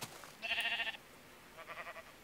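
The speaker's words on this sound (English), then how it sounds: "Sheep looks like sheep." A Minecraft sheep bleating in-game, two short wavering bleats, the first clearer and the second quieter, faint and alone without talk.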